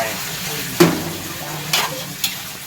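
Sliced pork stir-fried over high, dry heat with oyster sauce in a pan, with a steady sizzling hiss broken by three sharp scrapes of the spatula at a close distance; no talking.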